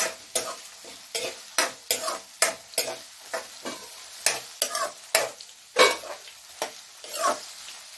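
Green chili and capsicum are stirred as they fry in a pan for aloo poha. A spatula scrapes in quick, regular strokes over a soft background sizzle, close and clear, with no talking.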